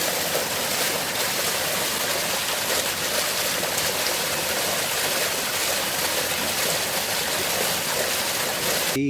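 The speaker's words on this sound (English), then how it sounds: "we can see the field here is giving us quite a lot of water, which is flowing quite nicely" Water from a field drain rushes into a stream, a loud, continuous, close-up gushing flow that stays steady throughout with no pauses.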